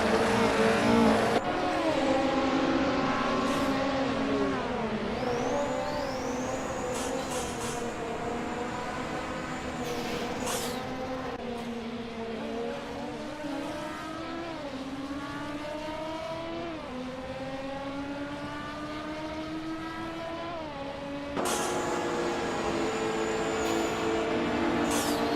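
Race cars roar through a racing video game, with high engine whines climbing and falling through gear changes as several cars pass and jostle, loud and continuous throughout.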